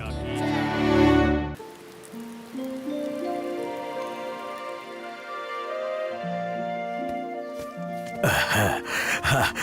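Rain falls steadily on surfaces during the rainy season, a soft continuous patter that runs under sustained music tones, with brief louder bursts of other sound at the start and end.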